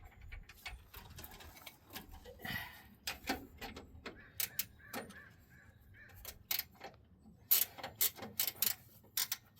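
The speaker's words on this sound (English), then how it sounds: "It's just quick enough to use a wrench here" Wrench ratcheting on a bolt during shock absorber replacement on a 1995 Nissan Hardbody pickup, a series of quick, irregular metallic clicks in short bursts, fairly faint and close.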